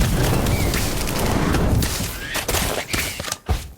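The Incendio fire spell in Harry Potter Magic Awakened erupts as a loud, dense roaring blast with crackling bursts, fading into scattered sharp pops toward the end.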